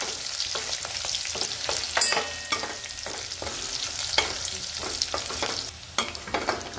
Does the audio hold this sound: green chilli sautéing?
yes